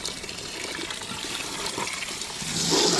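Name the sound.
water being poured into veg dalcha while cooking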